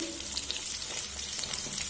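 Potatoes and papaya frying in a pan with turmeric over a low gas flame, a soft continuous sizzle with faint irregular crackles and no voice.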